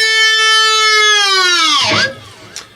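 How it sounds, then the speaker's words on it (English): An electric guitar holds a bright distorted note that the whammy bar then drags down in a swooping dive bomb, with the pitch plunging into a low growl. A brief scratchy noise follows near the end. "10, whammy, dive bomb."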